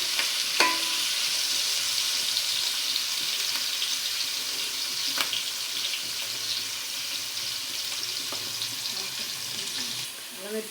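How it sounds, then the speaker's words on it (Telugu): Onions frying in a pan for mealmaker pulao, a steady close sizzle with occasional faint clinks of a stirring spoon, no talk. "ఆనియన్స్ ఫ్రై అయిపోయినాయి కదా"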